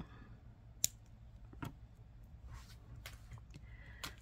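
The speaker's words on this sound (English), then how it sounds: "now we're going to cut this excess bit off" Scissors snip off the excess bit of an ear cuff with a crackled stone, a few quiet, isolated clicks spread out against a faint background.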